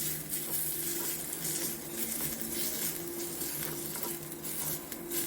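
Onions and mashed tomatoes fry steadily in a pan with a dense, continuous sizzle, close and unbroken, with occasional light stirring against the pan and no talking.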